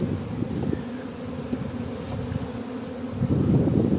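Honeybee swarm on an oak tree in Estonia, a dense steady buzz of many bees close by, swelling louder toward the end with no talk.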